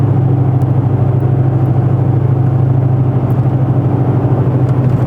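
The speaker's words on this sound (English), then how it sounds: "listen to the truck." A boosted GMC Sierra pickup with a lift drives along, its engine a steady low drone with a rhythmic pulsing throb, heard from inside the cab, loud and constant, with no voices.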